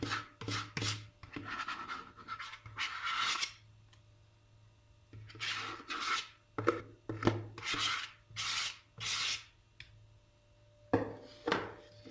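A spoon scraping the bottom of a bowl while making kedi dili cake, repeated rough rasping strokes in short bursts separated by pauses, close and clear with no talk.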